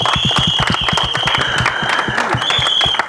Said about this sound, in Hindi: एक बार जोरदार ताली होनी चाहिए।